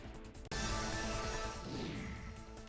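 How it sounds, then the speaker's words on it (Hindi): Glass in the gate of a hardware shop is smashed, a sudden loud crash followed by a sustained shattering, scattering noise, captured at a distance on security-camera audio. "दुकान में रखा सामान और गेट का शीशा भी तोड़ा।"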